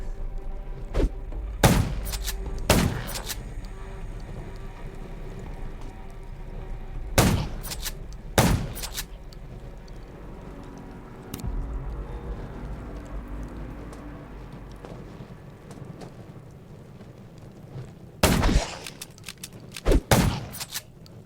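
Sharp gunshots crack in the zombie survival game Undawn, arriving as scattered single shots and short bursts of several rounds. They are loud and close, with quieter stretches of background ambience between them.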